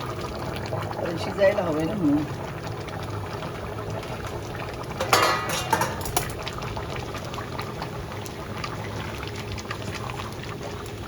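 Hot water is poured into a pot of village-style chicken curry with fresh cashew nuts. A short splashing pour rises over a low bubbling simmer while someone talks nearby.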